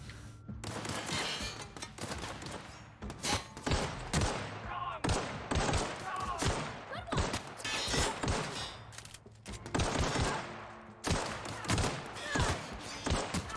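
Weapons fire rapid bursts of gunshots in the video game The Outer Worlds, with repeated sharp, loud volleys spread across the whole stretch and brief gaps between them.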